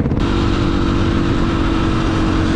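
A motorcycle engine revs loudly and steadily up close, a continuous throaty roar with no voices over it.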